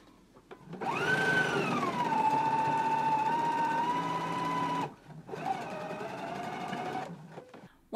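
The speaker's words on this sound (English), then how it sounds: "Now I'm going to go ahead and stitch again right over the stitch just to reinforce it" A sewing machine runs a reinforcing stitch back over the center seam of a pair of pants: one steady, close whirring run of about four seconds, a brief stop, then a second shorter run.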